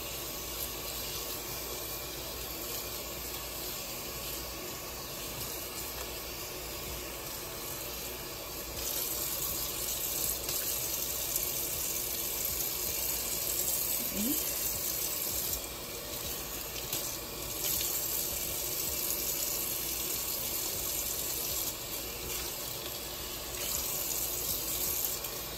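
Tap water runs steadily over a lace frontal to rinse out bleach, a continuous close splashing hiss with slight shifts in intensity as the lace is moved under the stream.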